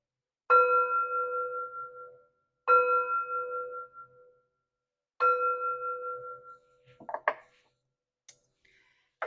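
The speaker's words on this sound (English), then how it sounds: "Three chimes to bring in positive energy." Three resonant chime strikes, evenly spaced and each ringing out slowly into silence, followed by a few faint clinks and rustles.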